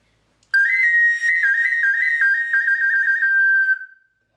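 A prehispanic-style clay whistle is played in a single clear, loud, high tone lasting about three seconds, wavering and stepping slightly in pitch before fading out, with no voices.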